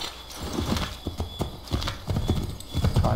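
Horse hooves clip-clop in a quick, steady rhythm in the video game Assassin's Creed III, close and clear, with a brief neigh mixed in.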